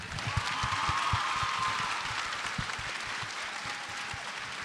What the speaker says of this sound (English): Let's give one more round of applause for those answers